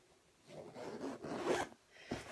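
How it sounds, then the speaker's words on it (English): A zipper slides along a sewn 16-inch fabric cover, giving a faint, close raspy zip with a few short rubbing strokes. "That zipper works, isn't that nice?"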